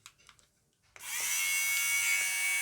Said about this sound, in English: you can shave your sweaters